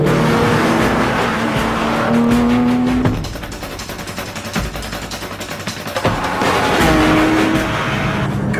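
A car is driven hard on the Alpine mountain road from Davos to the Stelvio Pass. Its loud engine climbs through the gears, eases briefly as it turns in, then surges again. Tires squeal faintly and no one speaks.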